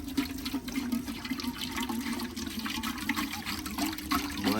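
Water running and splashing into a large soup pot at an outdoor campsite for Jamaican pigtail, chicken and pumpkin soup, a steady close pouring trickle lasting several seconds with no talk.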